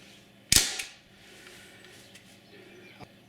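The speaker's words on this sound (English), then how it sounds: "I always take one shot before I do anything, because I found with CO2 air guns that your first shot is pretty useless." A single sharp shot from an ASG Dan Wesson 4-inch .357 Magnum CO2 pellet revolver, loud and close, with a short crack and a fainter second pop after, then quiet room tone with a few small clicks.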